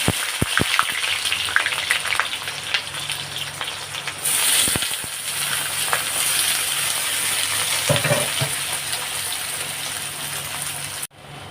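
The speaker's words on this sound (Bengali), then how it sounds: "কেটে রাখা পেঁয়াজগুলোকে দিয়ে দেবো" Chopped onions dropped into hot oil in a kadai for a spicy chicken giblet curry, a loud sudden sizzle that settles into steady crackling frying with occasional stirring, close by and without talk.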